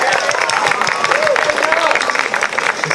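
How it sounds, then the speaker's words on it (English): A gathered audience claps loudly and steadily to encourage a young performer, the dense clapping mixed with lively voices and chatter. "Come on, clap her up."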